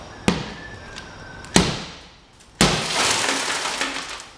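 A Troy rifle muzzle brake is struck against a vehicle window: two sharp knocks, then a loud crack as the glass shatters into a sustained crunching spray of breaking pieces.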